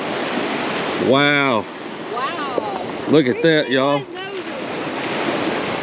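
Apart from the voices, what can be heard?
ocean waves breaking on the beach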